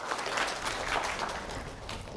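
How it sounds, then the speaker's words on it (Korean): Audience applause in a lecture hall after a speaker is thanked, a soft, steady wash of clapping heard from a distance, faint and unbroken for a couple of seconds. "다시 한번 우리 박영성 선생한테 박수 한번 해주시죠"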